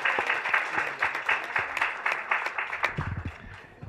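A modest crowd at a library volunteer recognition evening claps steadily, a sparse patter of individual hand claps heard fairly close that thins out near the end.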